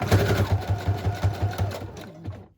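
A sewing machine stitches across lace and a ribbon closure in quick, even bursts of needle strokes, close and clear, slowing and stopping near the end.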